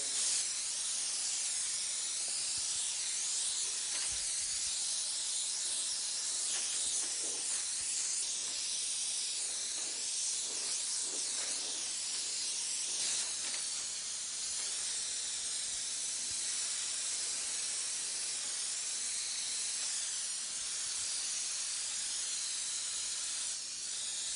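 A spray gun sprays pearl paint onto a vehicle in realistic flame artwork, a steady, bright, hissing airflow that runs unbroken throughout, close and loud, with slight changes as the pressure and distance shift.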